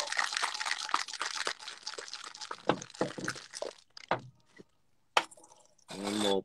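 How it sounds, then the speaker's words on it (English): A gimlet is shaken in a cocktail shaker, giving a quick run of rhythmic, rattling sloshes that stay close and steady, then thin into a few scattered knocks and a final splash-like burst. "So we'll shake the cocktail by itself."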